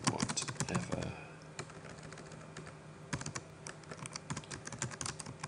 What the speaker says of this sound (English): We type our text in here.